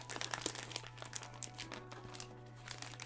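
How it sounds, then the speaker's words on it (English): Paper crinkling and rustling while being handled during journaling at a desk, a close, busy run of small crackles and crunches over a steady low electrical hum. "Crinkly noises on stream."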